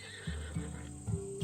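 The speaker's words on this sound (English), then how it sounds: "These are bred for battle, a true warrior's horse." A Macedonian warhorse whinnies in Assassin's Creed Odyssey, several short snorting neighs and breathy calls spaced across a brief moment, close and clear with soft hoof shuffling beneath.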